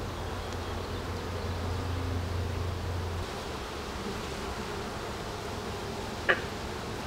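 Honey bees buzzing steadily around an open hive during an inspection of brood frames, a dense continuous hum with a brief sharp rustle near the end and no talking.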